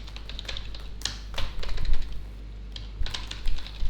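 Fingers clatter across a computer keyboard in quick, uneven bursts of close key clicks, a few heavier presses standing out, with no talking.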